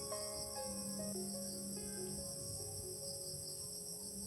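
A large swarm of highly venomous bees pours out of a big nest, a steady dense insect buzz with a constant high drone and shifting lower hums, faint and continuous with no voices.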